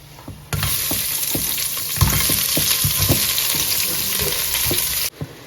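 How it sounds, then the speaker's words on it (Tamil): Chopped onions hit a pan of lightly browned spices for chicken biryani, bursting into a loud, continuous frying hiss with scraping stirs throughout, then cutting off abruptly near the end. "அது லைட்டாக கொஞ்சம் ப்ரௌன் ஆனதுக்கப்புறம் நம்ம வெட்டி வச்ச வெங்காயத்தை வந்து ஆட் பண்ணிக்கலாம்"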